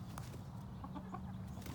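Chickens in a backyard hoop house cluck softly and intermittently, a few faint scattered calls over a low, steady background hum.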